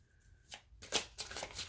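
Quiet riffling bursts of tarot cards being shuffled, a few quick crisp flutters close by, with no one talking.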